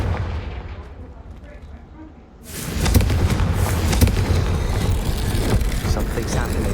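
A Confringo spell blast in the game Hogwarts Legacy goes off as a sudden loud burst of rumbling explosion and crackle, close and sustained, following a quieter passage of combat ambience.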